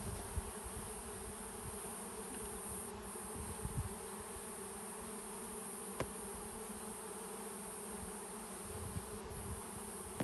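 Honey bees hum steadily around a hive in Tekirdağ, a continuous faint buzzing drone with a few soft knocks, no voices over it.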